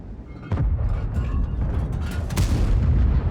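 A tank gun fires a shell in World of Tanks, one heavy, sharp boom near the start. A second fainter blast follows later, with battle rumble in between.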